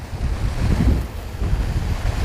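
Steady wind buffets the microphone over the wash of choppy waves at the water's edge while fishing with a float. The roar is loud and continuous, with no voices.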